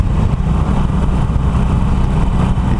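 A Harley-Davidson Iron 883 with a modified exhaust runs nearby, its loud, steady low engine rumble continuous for the whole stretch with slight fluctuations.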